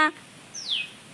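A single thin, high chirp from a small bird, brief and fairly close, after a short faint tone at the start.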